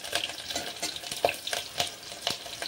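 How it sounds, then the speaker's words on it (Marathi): Hot oil spatters and pops as curry leaves and chili hit the pan on high flame for masala khichdi, sharp crackling bursts repeating every fraction of a second, close and fairly loud, with no voice. "तेल उडायला लागले"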